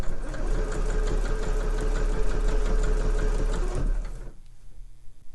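A sewing machine stitching around the edge of homemade slipper boots, a steady, close mechanical whirring chatter that runs for about four seconds and then stops, leaving quiet room tone.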